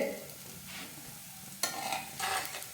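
A soft, low sizzle comes from an instant dosa crisping on a pan over low flame, with a couple of brief scraping or stirring noises and no talking.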